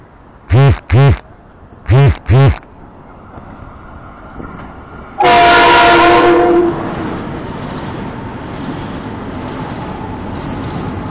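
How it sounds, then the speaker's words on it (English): A Metro-North M8 train passes northbound toward Connecticut at the 183rd Street overpass, sounding a loud two-pair horn blast followed by a strong rumbling roar as it rushes by, then fading into a lingering rail hum. "comes the M8 on a northbound track. This train is actually heading to Connecticut."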